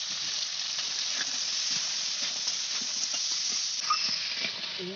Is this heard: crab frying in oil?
yes